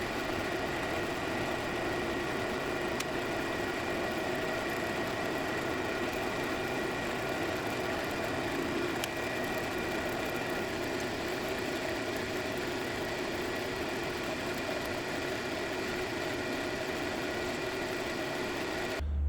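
A machine runs steadily while a cut is taken on a Duramax diesel cylinder head, giving a constant mechanical drone and hum with faint ticks, unchanging from start to finish.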